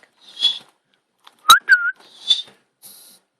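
A Quaker parrot whistles in short bursts: a few breathy high notes, a sharp click, then a clear rising and falling whistle, heard alone and close in a quiet room.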